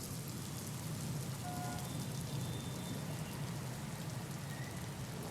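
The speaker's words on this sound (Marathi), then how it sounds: "नाशिकमध्ये आज सकाळपासून अगदी वादळी वाऱ्यासह मुसळधार पावसाला सुरुवात झालेली आहे" Heavy rain with stormy wind pours steadily in Nashik, a dense, even hiss with no pauses or voices, recorded close and constant.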